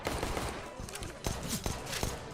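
Pistol taps from a P250 in a competitive shooter video game, a quick string of sharp shots over a noisy, crowded game mix with a voice talking over them.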